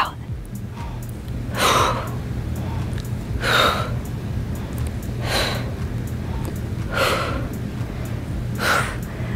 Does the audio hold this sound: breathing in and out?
yes